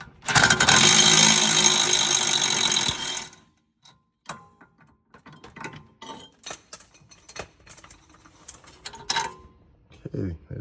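A wrench works a rear brake caliper bolt on a 2015 TDI Jetta, giving a loud burst of ratcheting and metal clatter for about three seconds, then scattered clinks and taps of tools and parts.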